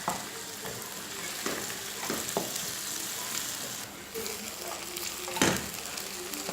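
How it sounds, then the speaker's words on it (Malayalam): Onions sizzling and frying in hot ghee, a steady close crackle with occasional stirring scrapes. "നമ്മുടെ നെയ്യ് നന്നായിട്ട് ചൂടാകുമ്പോൾ അതിലേക്ക് സവാള ചേർത്ത് കൊടുക്കുക."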